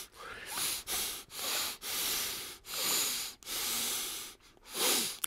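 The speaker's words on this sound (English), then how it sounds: "That's not good breathing." Heavy nasal breathing up close, with about six loud, airy inhale and exhale cycles in a slow, regular rhythm, each one hissy and slightly congested, separated by short pauses.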